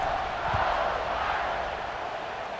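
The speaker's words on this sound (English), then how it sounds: "this crowd is buzzing after that last score" A football stadium crowd at a Notre Dame vs Syracuse game keeps up a steady, broad buzz of noise and murmuring cheers, with no break in the sound.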